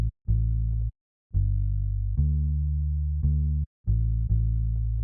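An organic bass sample from a vintage soul sample pack plays a simple pattern following root notes: sustained, deep plucked notes in short phrases separated by brief gaps, loud and alone.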